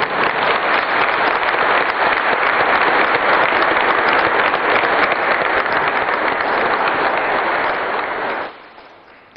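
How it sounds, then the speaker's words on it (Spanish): A large crowd at a fairground inauguration bursts into sustained, loud applause, a dense roar of clapping that holds steady for several seconds before quickly fading out at the end. "un gran aplauso para nuestro campo ferial"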